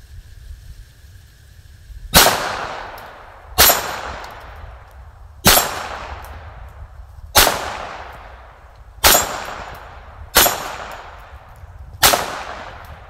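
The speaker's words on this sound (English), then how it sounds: "let's shoot some CCI standard velocity" A Ruger 22/45 Lite pistol firing CCI standard velocity .22 ammunition, seven sharp single shots spaced roughly every one and a half seconds, each with a short ringing tail, close and loud.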